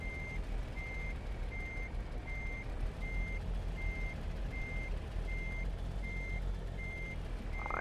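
Kenworth K100 truck engine in American Truck Simulator, a steady low diesel rumble idling close by while a reversing alarm beeps at an even pace over it, with no talk.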